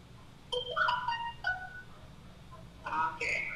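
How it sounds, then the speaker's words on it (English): A phone ringtone goes off in two bursts of bright melodic tones, fairly close and moderately loud, over a quiet room background. "As the phone goes off."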